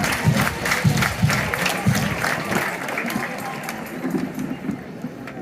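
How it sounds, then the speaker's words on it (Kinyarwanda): A crowd at a Catholic school education-week celebration in Kigali claps in a sustained, dense burst of applause with rhythmic accents, fairly close and loud, slowly tapering off. "Twongere amashyi menshi cyane aba bana bacu"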